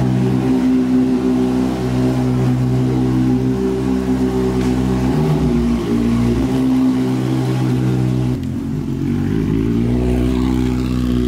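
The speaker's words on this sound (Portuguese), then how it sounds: "A moto fez um monte de barulho, ninguém acordou." A Honda Hornet motorcycle engine revs loud and close, holding a steady harmonic roar with a deeper throttle shift near the end and no voices.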